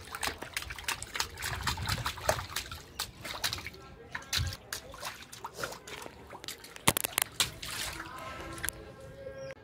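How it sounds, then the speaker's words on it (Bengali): Water from a household tap trickles and splashes into a basin at close range, an uneven pattern of drips and splatter with a voice and brief talk mixed in. "জল ছেড়ে দিলাম, জল ছেড়ে দি, ছেড়ে দি"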